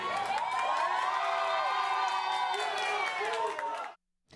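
Shoppers inside a mall cheer and clap as police arrest robbers after a store window was struck, a loud, sustained crowd roar with whoops and shouting filling the space before cutting off abruptly.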